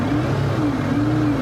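A Mercedes-Benz CLK GTR race-derived hypercar's engine grumbles steadily at low revs as it eases away in first gear, a close, constant drone with a faint rising tone and no voices.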